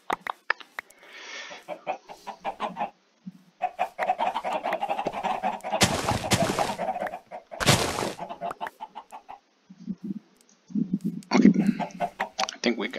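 Chickens in the Minecraft Stoneblock modpack cluck and squawk in repeated bursts, fairly close and loud, mixed with a person talking and breathing heavily, plus a couple of broad noisy blasts midway.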